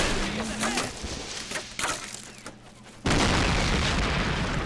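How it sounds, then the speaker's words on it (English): Mortar shells burst in the World War II strategy game Men of War at Carentan, German mortar fire landing as a series of booming impacts with a loud sustained roar of explosions and gunfire filling the final seconds. "that German mortar crew is devastating my infantry there"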